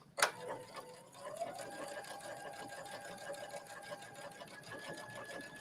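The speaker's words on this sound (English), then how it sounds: "I'm just going to do one nice top stitching" A sewing machine top-stitches a trench coat seam, starting with a sharp click and then whirring in a steady, rapid stitching hum at close range, uninterrupted.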